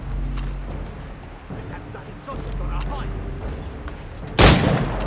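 Gunfire in Assassin's Creed IV Black Flag: scattered muffled shots and rumbling booms under game noise, with one loud, sharp blast near the end.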